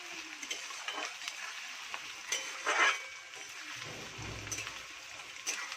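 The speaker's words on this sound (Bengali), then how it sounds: "এই পেঁয়াজটাকে ভাজতে হবে" Onions frying in a pan while being stirred, a soft crackling sizzle with scraping spatula strokes and a brief louder burst midway, fairly quiet overall.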